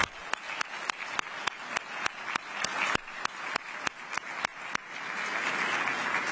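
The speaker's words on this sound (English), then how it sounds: "So one big round of applause for them first and foremost." Conference audience applause after a moderator's thanks, a steady wash of clapping hands from a crowd that swells toward the end, heard over regular sharp clicking ticks.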